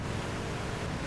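A car plunging into water in Grand Theft Auto III, heard as a steady broadband wash of splashing, churning water, fairly loud and continuous with no speech.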